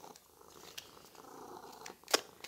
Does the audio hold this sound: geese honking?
no